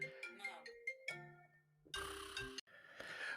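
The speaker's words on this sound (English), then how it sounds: "My mom called me. Forgot to put my phone on do not disturb." A mobile phone rings with an incoming call, a melodic ringtone of repeated bright tones heard clearly and up close, with sharp breaks between phrases.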